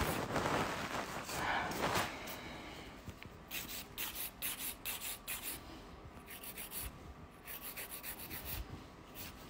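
A nail file rasping against a fingernail during arch-shaping nail modelling work, a close, steady scratchy rubbing in short repeated strokes, with no talk.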